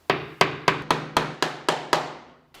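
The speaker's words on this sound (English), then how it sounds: "use the hammer for final minor adjustments" A hammer taps a wooden strip flush on a cajon resonance box, eight sharp evenly spaced knocks, close and crisp, each with a short woody ring, then silence.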